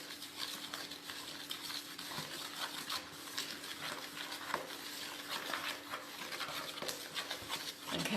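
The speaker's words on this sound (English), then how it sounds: "and give it a good stir." Dry ingredients and egg being stirred in a mixing bowl for a cheese olive bread ring, giving a steady, soft scraping and rubbing with small clinks against the bowl throughout, fairly quiet and close, with no talking.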